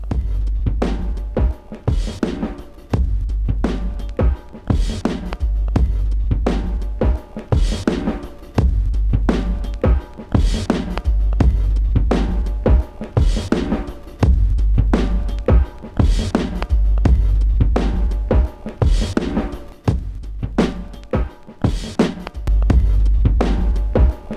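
Bass-heavy music with a deep, pumping low end shaped by EQ and a sub-bass enhancer, loud and continuous with a regular rhythmic pulse throughout and no talk over it.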